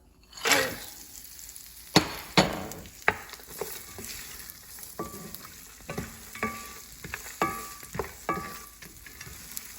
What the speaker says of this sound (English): I'm going to fry it in this container in the leftover oil.